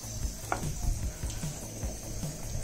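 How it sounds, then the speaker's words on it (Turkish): Onion sizzling in a pan that is not yet hot, on a portable camping gas stove, giving a soft steady crackle and hiss with small irregular pops under the constant hiss of the burner. "Tava ısınmadan soğan attık."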